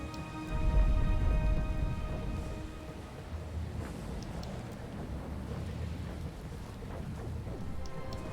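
A thunderstorm in the video game Pillars of Eternity 2, steady rain hiss with a deep rolling rumble of thunder near the start, then continuous rainfall with a low drone underneath.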